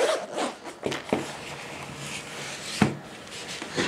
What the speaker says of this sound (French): On va ouvrir la petite pochette.